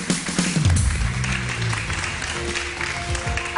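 Studio audience applause on a Pakistani morning talk show, a dense steady wash of clapping filling the room, with a voice briefly audible over it.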